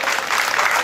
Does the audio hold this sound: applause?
yes